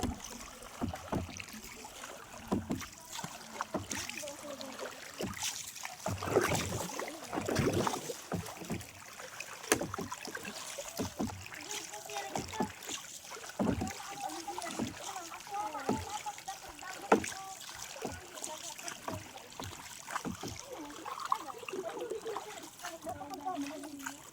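A wooden oar paddles a small boat against a strong current, with rhythmic splashing and trickling water under frequent conversation by people aboard.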